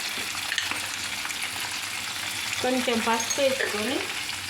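Onions fry in a pan with curry leaves for a fish curry, a steady close sizzle with light stirring scrapes, while a voice briefly speaks over it near the end.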